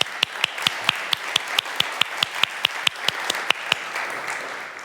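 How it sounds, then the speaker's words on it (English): An audience at a tech talk on applying 3D engineering drawing techniques to web app diagrams gives a short round of applause, with sharp, evenly spaced claps standing out over a softer wash of clapping that fades toward the end. "why don't we just give a quick round of applause for people who contribute to open source"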